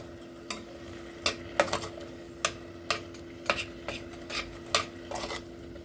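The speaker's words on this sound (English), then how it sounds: "I'm stirring this up with a small spoon" A small spoon stirs chili in a pot, giving roughly nine sharp clinks and scrapes against the pot at an irregular rhythm over a low steady kitchen hum, with no talking.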